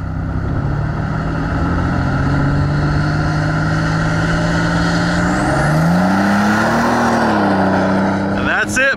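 A GMC Syclone with added boost launches from a brake-loaded stop and accelerates hard. Its close, loud engine drone climbs steadily in pitch, then surges higher near the end.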